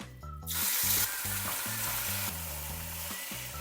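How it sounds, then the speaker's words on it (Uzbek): Oil sizzles loudly and steadily as meat fries in a hot pan for Uyghur lagman, a dense crackling hiss from start to finish. "yog'imiz qizib oldi. Endi bunga go'shtimizni solamiz"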